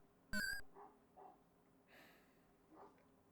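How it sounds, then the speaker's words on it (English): A dog barks a few times at a distance, short muffled yelps spaced out over a quiet background, with one sharper sound early on. "All the dogs are going off now."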